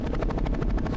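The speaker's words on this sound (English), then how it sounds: "Helicopter." A synthesizer plays a helicopter sound effect, a rapid rhythmic chopping pulse of about eight beats per second, steady and upfront.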